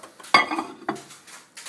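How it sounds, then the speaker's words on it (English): A mug being put into a microwave while making breakfast: two clunks, a sharp knock followed by a softer one about half a second later, each with a short rattle, close to the microphone. "put in this mug"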